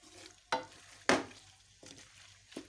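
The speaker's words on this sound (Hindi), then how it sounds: "मीडियम फ्लेम पे 1 मिनट के लिए मैं इसे पकाऊंगी" Chicken macaroni cooking in a pan over a medium flame, a soft low sizzle broken by a few sharp spatula scrapes and stirring knocks.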